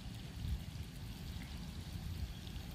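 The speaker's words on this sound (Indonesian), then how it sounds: "Kita siram full, campur air lagi sampai full tangkinya." Water gushes steadily into a sprayer tank being filled to the top for feeding durian trees, a continuous low, rushing flow with no voices.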